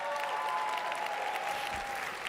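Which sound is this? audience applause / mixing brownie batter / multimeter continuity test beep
audience applause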